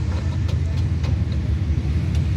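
Racing Honda engine rumbling low and steady at Brands Hatch as the Class B pole sitter's race car drives out to the grid, a continuous close drone with no talk.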